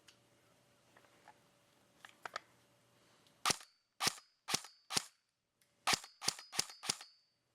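A Krytac LVOA-C airsoft rifle fired on semi-auto: a few faint clicks, then nine sharp, loud single shots in two quick bursts with short pauses between them.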